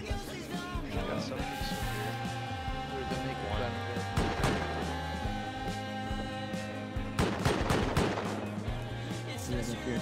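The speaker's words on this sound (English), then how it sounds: "Someone's shooting me." Gunfire aimed at the player in the survival game Rust cracks out in a few sharp, loud shots within a dense, continuous wash of game noise and background voices.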